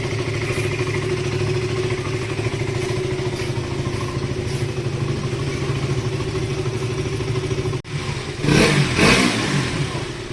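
A freshly repaired motorcycle engine idles steadily at close range with a constant drone, then briefly cuts out before being revved up louder near the end; no talk.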